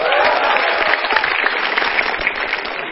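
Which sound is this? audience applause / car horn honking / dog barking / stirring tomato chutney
audience applause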